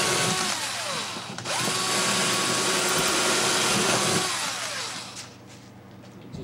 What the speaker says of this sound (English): Just drilled in the top of my guitar.